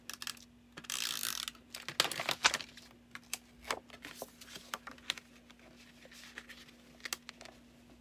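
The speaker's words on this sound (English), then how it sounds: "we're going to go ahead and take our snail adhesive. We're going to glue this to the front of your cardstock." Snail adhesive tape runner laying glue onto cardstock, heard as a faint, close series of quick clicking, ratcheting ticks in short irregular bursts, with a rustle of paper early on.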